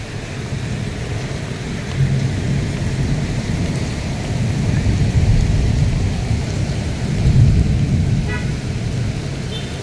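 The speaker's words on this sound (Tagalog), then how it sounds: "palakas ng palakas yung ulan" Steady heavy rain roars throughout, a dense broadband wash with low rumbling swells, alone with no voices.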